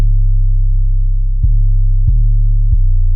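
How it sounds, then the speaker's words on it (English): Deep, sustained 808 sub-bass tones with a steady low hum, shifting pitch in a slow pattern with a few soft attacks, loud and alone. "So now the 808 plays this pattern."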